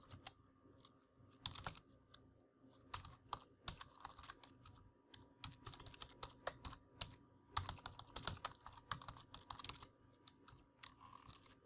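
Rapid, uneven keystrokes on a computer keyboard while PHP code is typed, with bursts of close, crisp clicks and short pauses.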